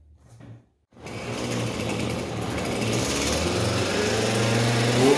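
A cold Husqvarna MADSAW dielectric pole saw engine catches after a short pull, settling into a loud, steady high-pitched two-stroke whine that runs on without pause.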